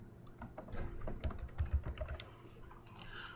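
Quiet, steady clatter of keys typing on a computer keyboard while entering data into an Excel spreadsheet, quick irregular keystrokes close by with no voices.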